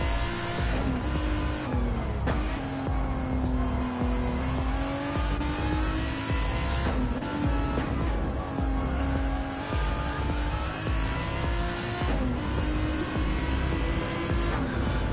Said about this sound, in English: let's just listen to the sound of these cars